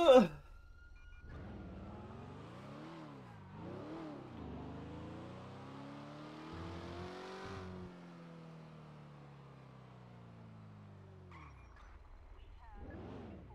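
Nissan GTR engine revving in a GTA roleplay game, rising and falling through several throttle bursts over a steady drone, with a sharp noise at the start and a brief voice near the end.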